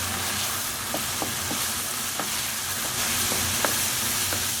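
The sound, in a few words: tomato paste and garlic frying and being stirred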